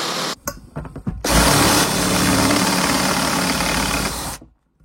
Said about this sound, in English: Just using a nice sharp drill bit, drill through the head of each one.